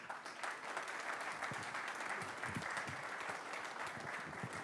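Broad, continuous applause from an audience at a book launch, many hands clapping steadily throughout at an even level, with a few voices faintly mixed in.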